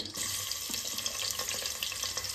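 Chopped onions hit hot oil in a pressure cooker for a bitter gourd sambar tempering. The result is a close, steady crackling sizzle with light stirring scrapes, with no voices.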